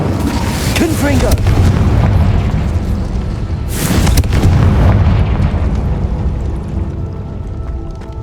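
A Confringo fire-blast spell in Hogwarts Legacy booms out amid continuous battle noise, with a sharp broadband burst near the middle and a voice calling out over the din.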